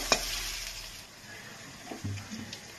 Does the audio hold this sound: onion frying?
yes